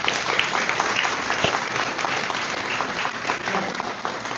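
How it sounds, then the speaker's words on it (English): An audience at an Astronomy On Tap science talk night in Charlottesville gives a speaker a steady round of applause, dense and sustained clapping throughout with no voices on top. "let's give Ashish another round of applause"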